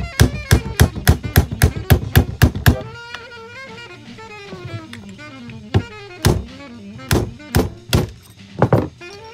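A 1/8 inch punch hammered to drive a pin out of a Galil Ace rifle: a rapid run of about a dozen sharp metallic taps, then a quieter stretch and a few more scattered strikes, close and loud.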